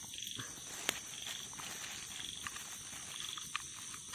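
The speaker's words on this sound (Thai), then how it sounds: "ฟังเสียงกัน เขียดเสียงอย่างฮ้องนะครับ" Small frogs croak at night outside a small hut, with scattered faint chirps over a steady insect hiss and the low crackle of a nearby fire or cooking.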